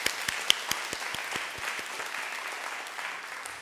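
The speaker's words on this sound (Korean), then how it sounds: "하나님께 영광의 박수를 올려드립시다." Church congregation applauding during a worship service, an opening run of sharp, evenly spaced claps from one nearby person over a broad, steady patter of many hands that gradually thins out.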